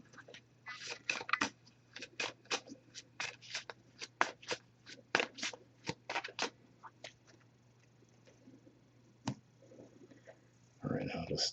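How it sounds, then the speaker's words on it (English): A Messages of Love oracle card deck being shuffled by hand in a series of quick, crisp riffling bursts, close and fairly quiet, pausing near the end before a brief rustle. "I'm just going to give this a few shuffles."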